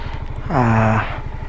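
A second-hand Honda ADV 350 motor scooter riding on the road: a steady low putter of engine pulses, with a brief rising whine swelling loudly in the middle before settling back to the even idle-like throb.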